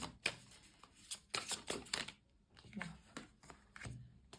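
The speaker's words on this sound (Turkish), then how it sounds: "Hemen destemizden de bir kart alacağım." A card being drawn from a tarot deck, with repeated soft papery shuffling and sliding rustles in short bursts, close and fairly quiet.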